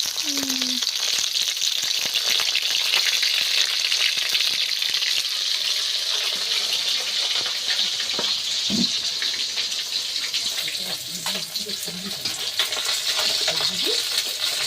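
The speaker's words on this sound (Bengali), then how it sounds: "কি মাছ ভাজা হয়ে গিয়েছে নাকি" Fish frying in a pan sizzles steadily at close range through the whole stretch, a dense hiss with small pops, while a voice or two murmurs faintly underneath.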